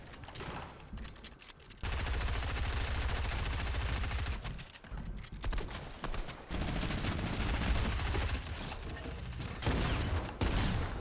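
Tactical shotgun fire in a Fortnite match, with dense loud blasts and rapid mechanical clatter over continuous busy game noise, pausing briefly before resuming.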